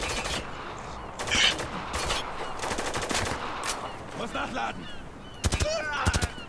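Heavy gunfire in the video game Spec Ops: The Line: bursts of machine-gun and rifle fire crackle in repeated volleys, with sharper loud bursts near the end, while a voice talks over parts of it.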